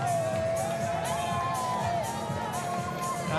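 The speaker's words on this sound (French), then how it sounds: "et les autres qui applaudissent" A crowd at a race cheers, whoops and applauds steadily throughout, a dense continuous roar with shouts rising above it.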